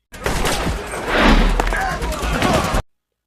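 Dense gunfire from an action film, a sustained burst of rapid shots and booms with voices talking over it, cutting off abruptly.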